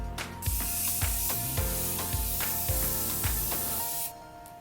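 A face setting mist from a Fenty or Morphe bottle sprays in a long, close, steady hiss, broken by several quick pump bursts, with no talking.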